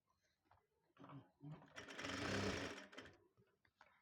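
A sewing machine stitching a cross strip onto a 4-tuck blouse, with a short whirring run of rapid needle strokes rising in the middle, framed by a few quieter mechanical clicks and handling noises.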